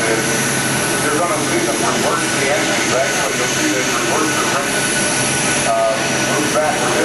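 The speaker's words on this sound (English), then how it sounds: "You're going to see them reverse the engines." Military transport aircraft engines roaring loudly in reverse thrust at an air show demonstration, a steady broad jet roar throughout with a voice talking over it.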